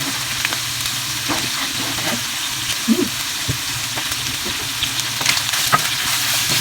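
Onions for salt yakisoba fry in a pan with a continuous close sizzle and occasional stirring clicks and scrapes, steady and fairly loud throughout.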